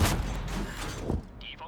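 A tank cannon firing in World of Tanks, a heavy boom at the very start that rolls into a rumbling tail, with a second thud and mechanical clanks after.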